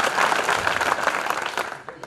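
An audience at a Hindi poetry recital claps in a dense, continuous burst of applause that fades slightly toward the end.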